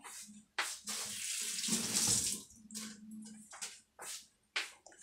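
Peeled potatoes are washed under a running kitchen tap, and the close, splashy water flow starts and stops repeatedly as the potatoes are turned and rinsed in the sink.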